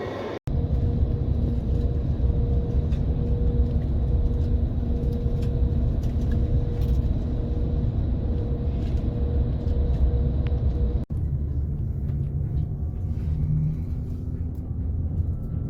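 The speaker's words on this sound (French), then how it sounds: "le bus pour aller au Puy-en-Velay" Regional bus heading to Le Puy-en-Velay, a steady loud low engine rumble and road drone heard from inside, continuous with a brief cut partway through.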